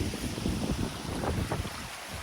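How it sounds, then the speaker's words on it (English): Steady wind buffeting a microphone on a blustery day beside wet fields and water, a continuous broadband rumble with gusty low-end swells and no voices. "we have a windy day"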